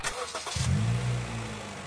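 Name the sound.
Honda Jazz engine starting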